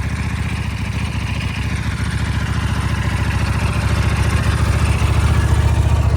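A 2009 Buell 1125R motorcycle engine idles steadily while warming up, a loud, close, continuous low throb with a faint clatter and no change in pace.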